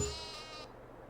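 A single sheep bleat in Farming Simulator 22, a short, close, wavering call that cuts off sharply, followed by a quiet low background hum.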